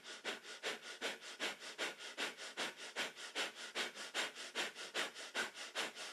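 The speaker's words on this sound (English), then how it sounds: "breath of fire is our lovely cleansing, panting breath through the nose" Breath of fire in a kundalini yoga practice: rapid, rhythmic panting breaths through the nose, about three per second, close and steady throughout with no talking.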